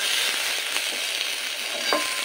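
Mixed vegetables frying in a wok, a loud, continuous close hiss of sizzling oil with faint stirring clicks and no voices.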